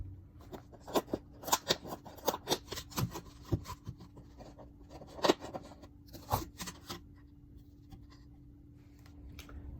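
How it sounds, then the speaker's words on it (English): Scissors snip and poke holes in a DIY bird feeder, giving a run of sharp, close crunchy clicks and rasps in quick irregular bursts that thin out toward the end. "we will use our scissors to make these holes just big enough to fit our"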